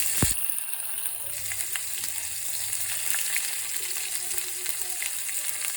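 Chopped onion sizzles steadily in hot oil in a pan with mustard seeds, made for lemon rice. The frying is close and continuous, with a brief clatter as the onion is added at the start.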